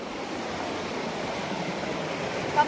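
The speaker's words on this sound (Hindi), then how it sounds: "हमारा वीर जवान योगेश पानी भरने के लिए पहुंच चुका है नदी के किनारे" Steady broadband rush of river water flowing past a riverbank in the Nubra Valley, Ladakh, a continuous close wash with no distinct splashes.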